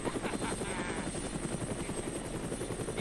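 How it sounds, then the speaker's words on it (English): Helicopter arriving in the video game Dead Rising: a steady, loud rotor thrum throughout, with constant engine whine. "Our good old helicopter friend is coming to save us."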